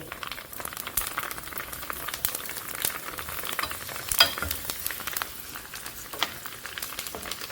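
Puris deep-frying in hot oil in a home kitchen, a steady close sizzle and crackle with occasional louder pops, no voices.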